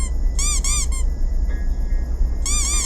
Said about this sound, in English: Where do you get those squeaky rubber duckies at anyway?